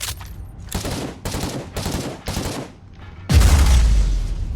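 Gunfire from a weapon in the video game Inquisitor Martyr, a run of repeated loud shots in bursts, then a heavier, booming blast toward the end.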